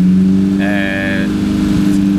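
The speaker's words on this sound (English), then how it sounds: "This is a Peugeot MI16 engine." Loud, steady drone of a Peugeot MI16 engine from a mid-1990s touring car, about 290 brake horsepower, at a hillclimb sprint; a deep sustained rumble close by, with a brief higher tonal whine partway through.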